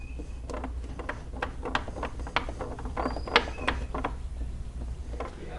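Fasteners on the plastic shroud of a Golden Companion four-wheel mobility scooter being tightened during assembly, heard as quiet, close, irregular ratcheting clicks over a low steady background.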